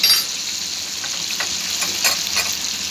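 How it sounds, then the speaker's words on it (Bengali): Potatoes fry in a pan with red chili powder, turmeric, cumin powder and salt, a bright continuous sizzle broken by several scraping stirs, close and fairly loud with no one talking. "জিরার গুঁড়ো এবং স্বাদমতো লবণ দিয়ে আলুগুলোকে আরেকটু কষিয়ে নেব।"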